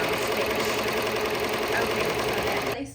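A Ricoma embroidery machine running a placement stitch on a T-shirt appliqué, a fast steady mechanical chatter heard close up, with a voice talking over it.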